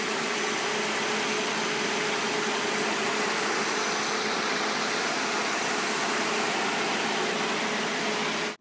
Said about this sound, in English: So after letting the heater and the car engine run itself, go ahead and turn off the engine.